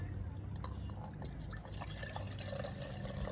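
Water poured into a GSI Halulite cook pot from the Microdualist II cookset, faint trickling and dripping splashes continuing for a few seconds at close range.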